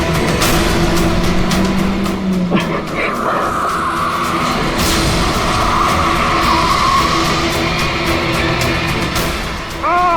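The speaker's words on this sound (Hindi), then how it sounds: "गाड़ी की ब्रेक क्यों नहीं लग रही?" A car with failed brakes skids, its tires squealing in a long, loud screech over engine roar, up close and dramatic in a TV crime-horror scene.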